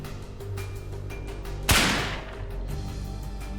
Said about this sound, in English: Hidden on the other side of the gun is a battery-powered mechanism that creates a small explosion at the end of the barrel when the trigger is